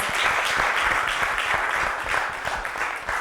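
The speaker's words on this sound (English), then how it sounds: "Let's give him a huge round of applause." Audience applause at a supply chain summit panel, a dense, steady wash of many hands clapping that holds for the full few seconds without speech.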